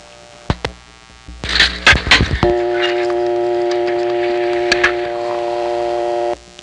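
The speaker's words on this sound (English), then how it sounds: "another vacant level tone" A 1970s New Haven, Connecticut step-by-step telephone exchange plays a vacant level tone: a steady buzzing hum that holds for about four seconds after a few clicks and clunks of switching, then cuts off abruptly.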